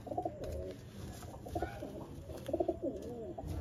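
A Giribaz running flying pigeon gives several soft, throaty coos up close, in repeated bursts with brief gaps between them.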